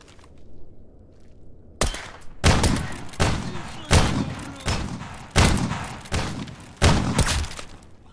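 Gunfire in the Surviving The Zone game: seven or eight loud, separate shots at steady intervals of about three-quarters of a second, each with a short decaying tail, over a faint background hum.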